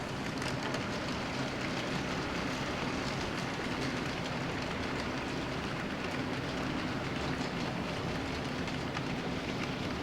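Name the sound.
mixed freight train running north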